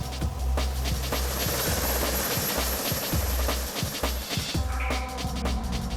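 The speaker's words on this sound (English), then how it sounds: "the Sea King helicopter is a symbol of salvation" A Sea King search-and-rescue helicopter thunders overhead with a steady rotor chop and engine whine, loud and continuous throughout.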